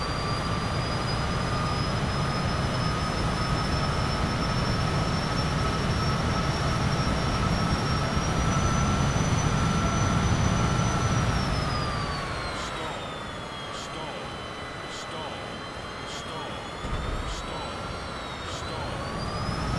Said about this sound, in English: Next is a Cessna Citation jet.